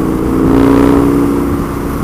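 Husqvarna Nuda 900R motorcycle engine revving loudly and close, a thick steady roar that swells slightly in the middle of the short burst.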